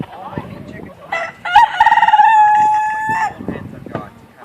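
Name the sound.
chickens clucking and crowing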